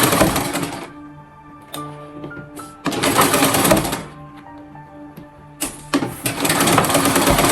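A sewing machine stitches a shirt shoulder seam in loud, rattling bursts of about a second or more, separated by short pauses with faint handling noises between runs.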